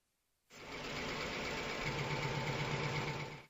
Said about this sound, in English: Let's take a look at a typical plant compressor one more time.